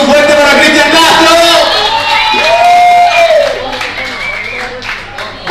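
A crowd applauds and cheers loudly for a singer at a show, with whoops and children's shouts mixed in while a presenter talks over the noise, then the ovation fades a little.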